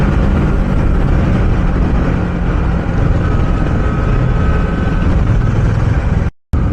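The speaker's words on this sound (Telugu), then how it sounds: "మా బండి సౌండ్ వినే నాకు గజ్జుమంది కదా" Motorcycle engines on a group ride from Hyderabad to Bhongir, a loud continuous roar with wind rush that holds steady and then cuts off abruptly near the end.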